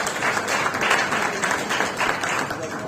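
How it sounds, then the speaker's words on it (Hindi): Crowd at a political rally claps steadily for about three seconds, a dense, even roar of many hands with gentle surges and no pause. "इनके लिए एक बार जोरदार ताली हो गई।"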